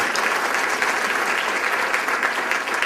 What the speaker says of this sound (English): Give yourselves a round of applause because you are an example.